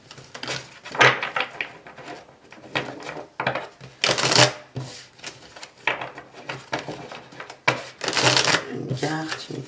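Tarot cards shuffled by hand during a Cancer horoscope reading, heard as repeated bursts of papery riffling and shuffling with short pauses between them, fairly close and clear.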